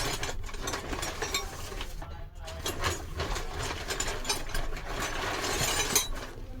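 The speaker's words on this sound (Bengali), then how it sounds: "21 নম্বর জন্য বড় একটা রেঞ্জ চলে এলো। এবং টাইট দিলাম আস্তে আস্তে" A large wrench slowly tightens a size 21 nut over a lock washer, giving rapid ratcheting clicks and metal rattling in bursts, close and moderately loud, with no voice.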